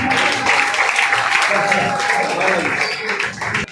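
Loud, dense applause from an audience welcoming guest Sir Nadeem Ghazi onto a stage, continuous clapping filling the whole moment close by, with a voice faintly over it.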